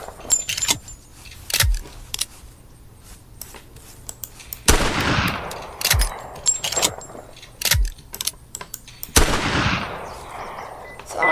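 Rifle shots from a modded old-firearm weapon in a video game, three sharp loud cracks with decaying tails spread several seconds apart, with metallic clicks and handling noises of reloading between them.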